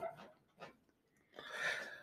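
A dog makes a few short close sounds, two brief yips followed by a longer whining or breathy noise, in a quiet room.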